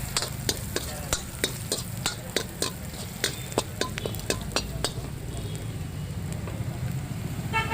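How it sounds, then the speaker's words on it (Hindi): Spices for kachri fry in a kadhai over raised heat while a ladle scrapes and taps the pan in a steady regular rhythm, close and fairly loud over a continuous sizzle. "अब जैसे जैसे मसाले भुन रहे हैं"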